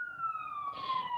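A siren passing outside, its wailing tone sliding steadily downward in pitch as it goes by, heard faintly at a distance over low background noise.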